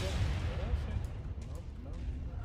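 An incoming missile bursts against a mech in MechWarrior 5: Mercenaries, a heavy, rumbling explosion with deep booming low end and crackling debris, loud and continuous for a couple of seconds.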